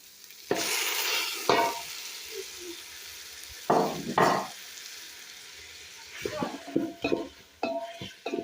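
Tomatoes frying and being stirred in a pot over a village cooking fire, with bursts of sizzling and scraping strokes that come and go, separated by quieter stretches of low crackle.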